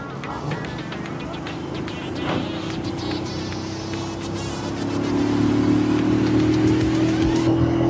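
Superlight chopper motorcycle engine droning steadily while riding, a low sustained hum with a rising whine that grows louder in the second half, wind noise throughout.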